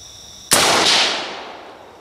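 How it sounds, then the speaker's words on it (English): A single Serbu BFG-50 MKII .50-caliber rifle shot fired outdoors: one sharp, loud, close blast followed by a long fading rumble and echo. "So I'll fire another shot, make sure that wasn't just me"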